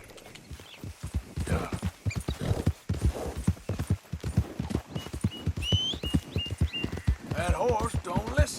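Horse hooves clip-clopping in the Red Dead Redemption 2 video game, a steady, close rhythmic walk of distinct thuds with a brief whinny-like call near the end and a voice speaking over it.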